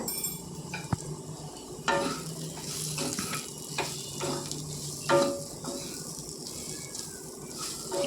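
Kundru and potato dry curry with amchur powder being stirred in a pan, with repeated scraping strokes of a spoon over a soft sizzle, close up and irregular in rhythm.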